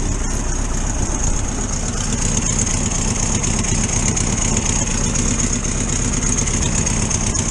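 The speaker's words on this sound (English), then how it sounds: "Sounds like I've got a little bit of a blow in the exhaust somewhere here." A VW T2 camper van engine idles continuously with a rough, puffing exhaust note from an exhaust leak, steady low rumble and faint irregular ticking, no voices.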